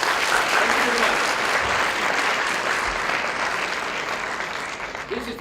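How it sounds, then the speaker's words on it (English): At a TEDx talk on robotics, the audience gives a full round of applause: many hands clapping densely and steadily, loud at first and easing off slightly toward the end, with no voices over it. "If you agree with me, please give a clap"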